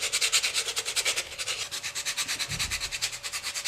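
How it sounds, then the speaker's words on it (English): Wood pieces for a prop gunblade being sanded by hand, a steady run of rhythmic rasping strokes, close and fairly quiet, with no voices. "Sanding here to create the curves."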